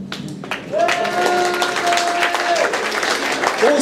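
Concert audience at a rock show in a club hall clapping and cheering, a dense steady wash of applause with a sustained tone ringing through it, loud and continuous.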